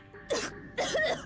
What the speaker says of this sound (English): Jessica suddenly started coughing.